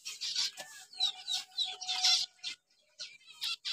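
Small pet birds such as finches and java sparrows chirp and twitter in a breeding shed, a busy chorus of repeated high calls with brief pauses and no talk.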